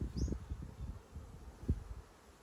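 Honeybees from a newly installed swarm in a top bar hive during an inspection, a faint close buzzing with soft rustling and low handling noises, no talk.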